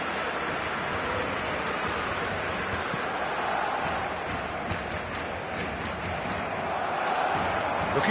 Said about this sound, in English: there's a real sense that the momentum has shifted here, Peter, and the crowd are reacting to that now